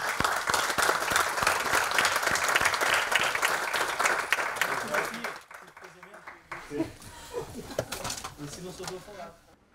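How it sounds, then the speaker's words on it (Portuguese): Audience applause at a training session for Digital Preservation Day, a loud dense round of clapping that fades after about five seconds as scattered claps and voices carry on. "Eu peço uma salva de palmas já agora para estas pessoas."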